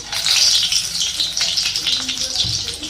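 Loud, steady sizzling and crackling of egg pakoda batter frying in hot oil fills the whole short stretch, close and continuous, with wet hands adding to the sizzle.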